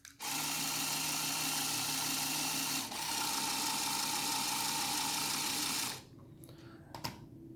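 A Lego motor drives a compact Lego turntable, giving a loud, steady buzzing whir up close that carries on for about six seconds before cutting off, leaving faint clicks and handling noise.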